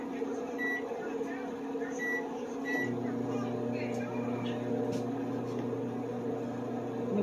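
A microwave oven runs while heating food, giving a steady, close electrical hum and fan drone after a few short beeps at the start.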